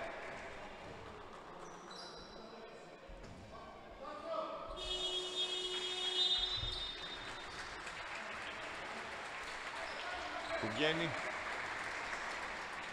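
Applause and crowd noise fill an indoor basketball arena during a Greek league game between Panerythraikos and Agrinio, with squeaks, a bouncing ball and a commentator talking over the moderate, steady clapping.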